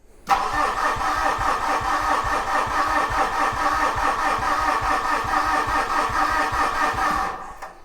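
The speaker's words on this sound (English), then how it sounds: "we're going to try cranking" A Fuso 4P10 diesel engine with a no-start, slow-crank fault turns over on its starter without catching, a steady rhythmic churning that runs loud and close for about seven seconds before cutting off.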